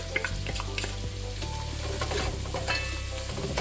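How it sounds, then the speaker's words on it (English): Garlic hitting hot oil in a pan for a white bean kale soup, a continuous close sizzle and crackle with light stirring, no voices. "So here I'm just gonna add some of my garlic"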